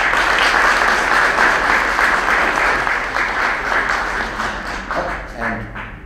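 An audience at the 2019 Rabbi Perry Nussbaum Lecture applauds award winners with loud, dense, sustained clapping that gradually thins out toward the end.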